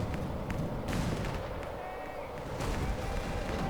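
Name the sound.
airstrike explosions in Company of Heroes 3 video game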